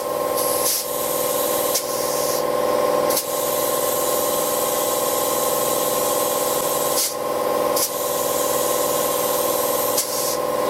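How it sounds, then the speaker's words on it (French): Compressed air hissing steadily into a tyre on a Twin Busch TW-X11 tyre changer, a continuous loud spray with brief interruptions and mechanical clicks, no talking. "Donc là on va gonfler."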